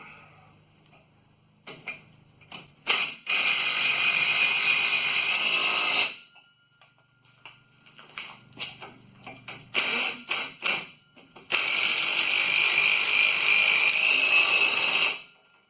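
A powered tool tightens the rear differential bolts on a 2008 Ford F-150 8.8 axle, whirring in two long, loud sustained runs separated by scattered clicks and taps.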